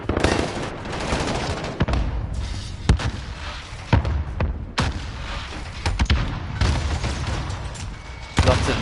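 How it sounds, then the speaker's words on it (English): Repeated booming grenade blasts mixed with rattling gunfire during a Call of Duty tournament match, sharp bursts recurring every second or so over a steady noisy battle din. "Lots of nades going into the shop."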